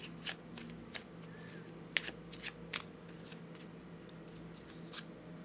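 Lenormand oracle cards shuffled by hand for a reading, quiet and close with a sparse series of sharp card snaps and slides over a steady low room hum.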